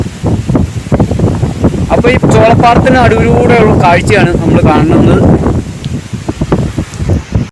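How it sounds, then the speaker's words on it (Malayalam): Strong gusts batter a phone microphone in the middle of a corn field, a loud rumbling roar that runs under someone talking for most of the clip. "കാറ്റടിച്ചിട്ട് മൊബൈൽ കിടന്ന് വിറയ്ക്കുന്നതാണ്"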